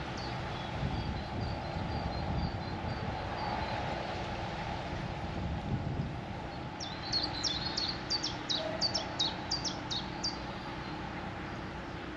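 A small bird singing beside a canal, with faint scattered chirps and then a brighter run of repeated high notes over a soft windy background murmur.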